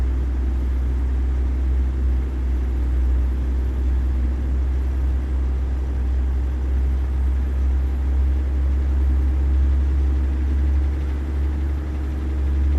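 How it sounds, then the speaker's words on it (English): Engine cooling fan of a truck in American Truck Simulator, hauling a heavy 88,000-pound load, gives a steady, loud low drone and rumble that holds constant throughout with no talking. "Cooling fan just kicked on."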